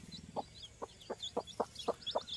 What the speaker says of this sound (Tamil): பாருங்கள் அந்த குஞ்சுகளாம் தாயை காணும் அப்படின்னு சொல்லிட்டு பார்க்குது